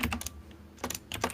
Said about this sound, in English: Sorry for the typing sound.